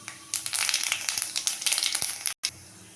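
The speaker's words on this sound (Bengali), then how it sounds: "দিলাম শুকনো লঙ্কা, তেজপাতা, খানিকটা মৌরি ফোড়ন দিলাম।" Dried red chillies, bay leaf and fennel seeds sizzle and crackle in hot oil for a spice tempering, a dense, close frying hiss with sharp pops throughout and a brief dropout near the end.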